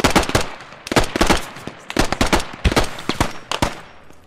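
Rapid bursts of AK rifle fire in a multiplayer squad shooter, loud and close, firing in several sharp volleys with brief gaps between them.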